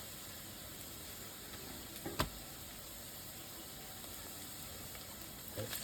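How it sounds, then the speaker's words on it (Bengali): Onion, ginger and garlic fry quietly in a pan with a soft, steady sizzle, broken by one sharp clack and a few light stirring sounds. "পেঁয়াজের সঙ্গে আদা রসুনটাকে ভালো করে একটু ভেজে নেবো"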